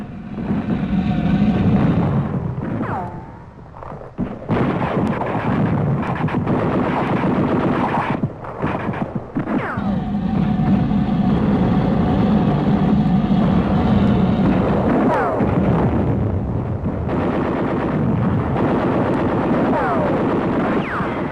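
Gunfire from flame-throwing Amtraks attacking machine gun nests on rugged hills: dense, loud, continuous battle noise with rapid bursts and heavy booms that barely let up.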